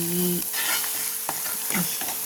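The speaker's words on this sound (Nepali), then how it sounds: "नुन लगाएपछि फेरि चलाउनुहोस्" Potatoes frying in a pan after salt is added, stirred with loud scraping strokes over a continuous close sizzle, with no voices.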